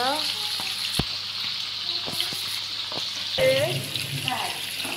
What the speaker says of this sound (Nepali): यहाँ चाहिँ माछा फ्राई हुँदैछ।